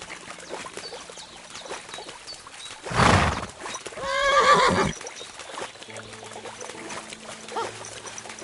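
A horse in Kingdom Come: Deliverance II gives a loud neigh and a longer whinny around the middle of the clip, set against a quiet background.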